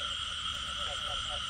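Continuous frog chorus from a wet rice paddy after a heavy downpour, a dense, even layer of croaks and trilling buzz at moderate distance, with no speech and no pauses.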